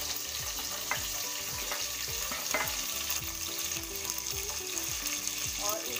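Potato pieces for tahri fry in a pan with a dense, constant sizzle and crackle, up close, while clinks and scrapes of a spoon come through at intervals.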